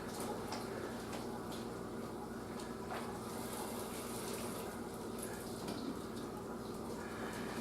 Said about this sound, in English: What we're going to do now is to strain the vegetables out.